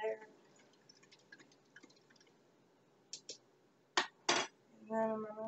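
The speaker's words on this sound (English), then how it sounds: "Stir it up. Make sure the sugar's all involved there." Spoon stirring sugar into a mixture in a bowl, a few faint scattered clinks and scrapes followed by louder knocks of metal on the dish, with a voice rising briefly near the end.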